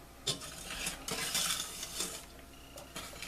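Fudge frosting mixture being stirred in a pot on a stovetop burner over medium-high heat, giving repeated close scraping and clinking strokes against the pot with no talk.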